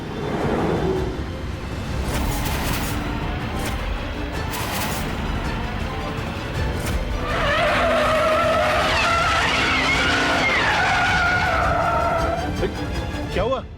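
Car tires skid and squeal on a car with a punctured tire, a loud rising screech over engine noise in the second half, with people talking over it throughout.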